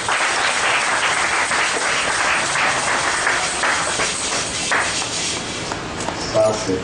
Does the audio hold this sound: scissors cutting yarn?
no